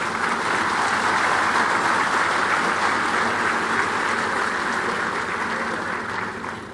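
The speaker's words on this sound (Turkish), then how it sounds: "Bu gurur büyük bir alkışı hak eder diye düşünüyoruz." A large audience at a naval ceremony for the drone carrier TCG Anadolu applauds in a sustained, even roar of clapping that holds steady throughout and eases slightly at the end.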